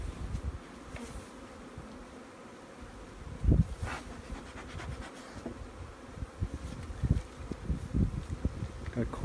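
Honeybees buzz at an active hive during spring brood nest management on a cold morning, a close, steady drone with fluctuating intensity and occasional soft thumps and rustles.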